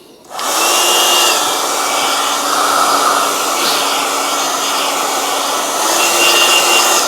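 A heat gun on medium heat blows steadily at a Fiat 500 rear light cluster, switching on with a sudden loud, constant roaring hiss that holds evenly close by.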